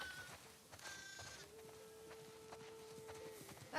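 Sheep bleating in the video game The Last of Us Part 2, a few short calls close by over quiet farm ambience with soft hoof and movement sounds.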